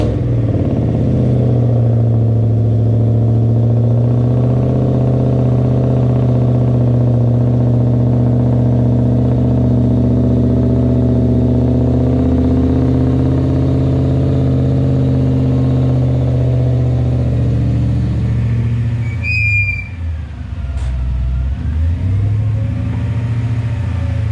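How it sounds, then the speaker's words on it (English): A Whipple-supercharged 5.0 engine rumbles loudly and steadily on a cold start, a deep continuous idle close by with a brief rev and clatter near the end. "you'll just hear how loud it rumbles whenever you do a cold start"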